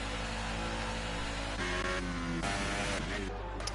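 Racing cars in a video game race in Russia roar past in a pack, engines droning and shifting pitch as they accelerate, mixed with a faint background voice.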